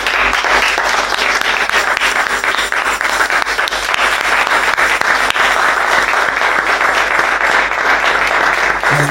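Congregation at a French-language church meeting applauding together, a dense, loud, unbroken wash of clapping from many hands that fills the whole stretch.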